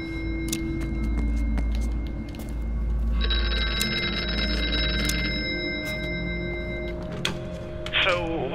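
A telephone rings repeatedly in the horror video game Here They Lie, a steady electronic ringing pattern heard over low ambient drone and game sounds.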